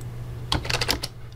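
A short burst of about half a dozen quick keystrokes on a computer keyboard, close and crisp against a faint background hum, while working in Blender.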